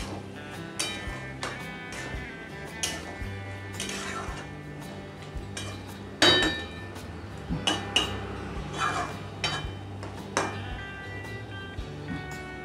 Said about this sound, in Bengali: এবার ভালো করে একটু নেড়ে দিচ্ছি